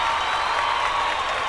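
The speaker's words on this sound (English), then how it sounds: "No, I'm going to give a clap for Martin Luther King." Steady applause from a studio group clapping for Martin Luther King, a dense, even wash of many hands held at one level for the whole stretch with no pauses.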